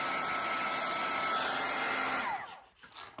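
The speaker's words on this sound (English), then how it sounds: "I'm just going to get it real quick with my heat gun, make sure everything's smooth" A heat gun blows a steady, loud, hissing whoosh over freshly poured UV resin on a phone grip for about two seconds, then cuts off, leaving brief faint handling noise.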